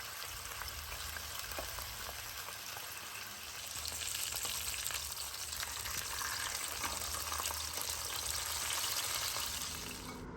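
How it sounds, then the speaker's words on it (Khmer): Marinated pork frying over medium heat in a pan, giving a steady, dense crackling sizzle that swells slightly louder midway and continues without pause, close and alone with no talk. "កំឡុងពេលដែលយើងកំពុងតែចៀនគឺយើងត្រូវឧស្សាហ៍ត្រឡប់វាចុះឡើងរហូតដល់សាច់របស់យើងឡើងឆ្អិន"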